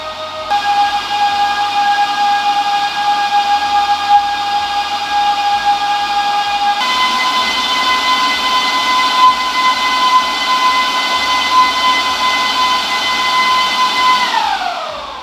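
Wind-test fans blowing across a drone for a thrust test, a steady close motor whine with a tonal hum that steps to a higher, louder pitch partway through and then runs evenly.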